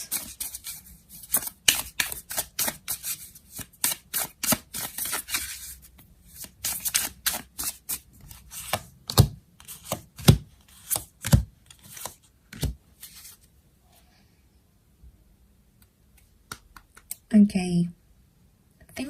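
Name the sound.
tarot cards being shuffled and laid out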